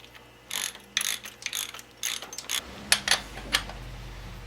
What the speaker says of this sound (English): And we torque it to the proper torque spec, which is real darn tight.